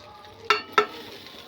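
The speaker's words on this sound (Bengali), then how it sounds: "দেখো ফোড়নে আমি দেবো জিরে" Cumin, bay leaf and dried chilies hit hot oil in a pan after cauliflower is fried, two sharp crackling bursts of sizzle a moment apart, each fading into a quieter hiss.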